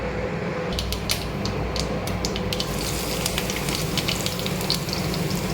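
Mustard seeds crackle and spit in hot coconut oil in a tava, with a dense steady sizzle and sharp pops scattered through it, close and loud and with no voices.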